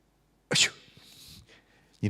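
One sharp, close sneeze bursts out, trailing off into a breathy hiss, followed moments later by another abrupt onset.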